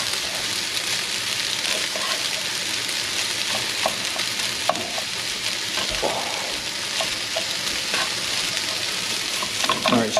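Rice frying in a hot pan, a steady loud sizzle with crackling pops and occasional scraping stirs running throughout, no voices.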